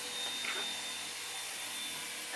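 A Bosch household vacuum cleaner runs steadily at close range, its airy motor whoosh holding at an even level without pause through a short stretch, during an indoor children's game of carrying colored balls.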